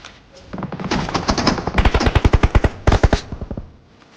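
Rapid bursts of automatic gunfire from the battle royale game PUBG, loud and close, with several quick volleys of sharp shots separated by brief pauses; no voices.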